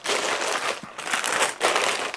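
Plastic bags of building-set parts are opened and handled close by, giving bursts of crinkling and rustling in uneven waves, with no talking.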